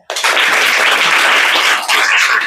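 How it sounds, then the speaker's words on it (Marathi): An audience claps together in applause for a teacher. The applause is loud, dense and continuous, starts abruptly and dips briefly near the end before picking up again. "ह्या सरांसाठी एकदा टाळ्या वाजवा"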